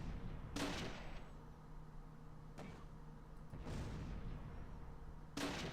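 Gunfire in the wargame Close Combat: Last Stand Arnhem: a few sharp, separate shots spread over several seconds, with a low steady hum behind them and no talk.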